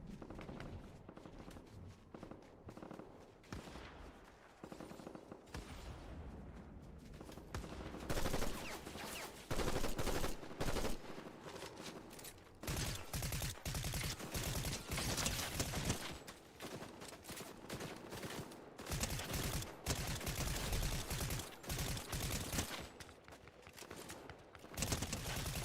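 Gunfire in a multiplayer shooter: rapid automatic bursts and single shots crackle almost nonstop at moderate distance, with footsteps faintly underneath.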